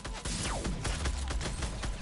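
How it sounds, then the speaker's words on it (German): Gunfire in a video game rattles off as dense, loud bursts of rapid shots, close and unbroken for a couple of seconds, with no talk over it. "Schüsse."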